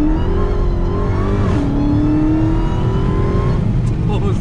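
A Dodge Charger Hellcat Widebody on stock tires launches hard from a dig, its loud engine roaring steadily upward in pitch with a brief shift dip, close and continuous for several seconds.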